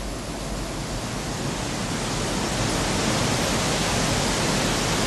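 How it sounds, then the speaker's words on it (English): A steady, loud rush of falling water from a waterfall in the Grow Up video game, a dense continuous roar with no voices. "another waterfall"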